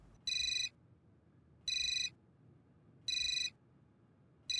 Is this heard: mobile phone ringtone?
yes